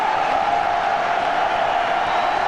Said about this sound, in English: Student section trying to get loud, fire up this crowd.